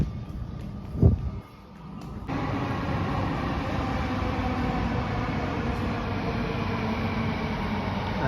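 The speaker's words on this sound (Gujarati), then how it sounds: "અંડરગ્રાઉન્ડ મેટ્રો આવે હરી જો ખાલી 2 મિનિટમાં" An underground metro train in Mumbai pulls in and runs on with a steady, close, enveloping rumble after a brief thump and a lull at the start.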